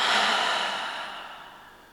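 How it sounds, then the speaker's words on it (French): A single slow, soft breath through the nose and out through the mouth during a guided yoga relaxation, airy and close, tapering off gradually with no speech. "Et à nouveau, inspire par le nez. Expire par la bouche."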